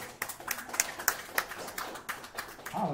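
A church congregation claps in a loose, uneven burst of hand claps at moderate volume, building into a faint cheer near the end.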